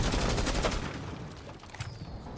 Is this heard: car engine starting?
no